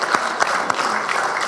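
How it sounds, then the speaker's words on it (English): An audience at a township council meeting applauds, a dense, steady wash of many hands clapping at close range, loud and continuous throughout. "I have to give you a round of applause"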